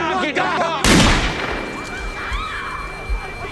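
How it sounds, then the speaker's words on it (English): A single sharp gunshot cracks out in a movie trailer scene set in a street, with reverberation trailing behind it. Faint voices and ambient street noise can be heard before and after the shot. "Yo, they shot him."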